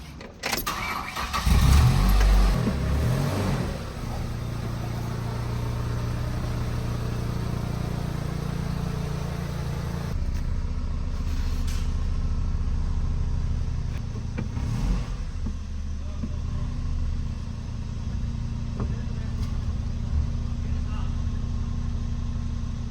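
A Mercedes CLS550 engine, unmoved for seven years, cranks and starts nearby, then settles into a steady running hum as the car idles and moves, with a brief voice early on.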